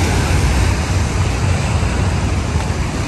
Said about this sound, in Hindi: सामने समुंदर की लहरें,